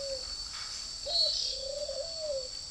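Caged fighting birds call back and forth, a few drawn-out whistling notes, one near the start and a longer gliding phrase later, over a constant high-pitched hiss with no talk.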